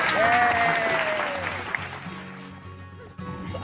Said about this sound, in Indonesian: Tepuk tangan buat kita semuanya